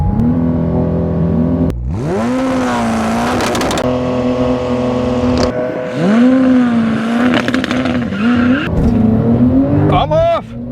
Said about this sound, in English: Now we got 1000 horsepower 765LT versus the Porsche Turbo S half mile.